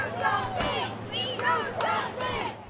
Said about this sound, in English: This time, chants could be heard.